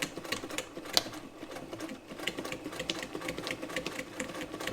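A Frister & Rossmann 35 sewing machine, modified for heavy-duty work, zigzag-stitches through three layers of heavy sail fabric in a fast, even, clattering rhythm, close and unbroken throughout.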